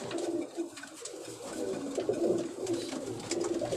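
Pigeons coo repeatedly in a low, throaty rhythm on a rooftop terrace, the soft calls rising and falling close by with no talking over them.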